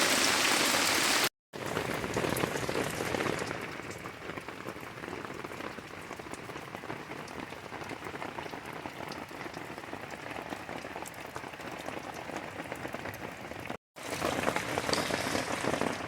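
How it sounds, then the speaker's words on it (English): Steady rain drums on a tent from inside, a dense, even hiss of drops that runs without a break, close and moderately loud, with a brief gap near the start and near the end. "It's been raining all day."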